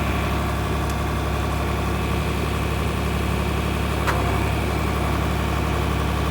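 A farm tractor with a power shift transmission idles nearby, giving a steady, even low rumble that holds constant throughout with no talking.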